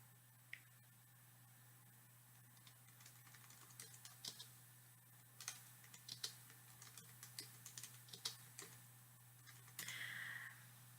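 Someone types steadily on a computer keyboard in a quiet room, with soft, uneven clicks and taps in short bursts over a low steady hum, ending in a brief flurry.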